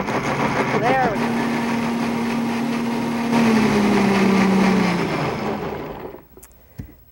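An electric blender whirs steadily as it purees a big apple with a little juice into sauce, its motor humming loud and even for several seconds before cutting off.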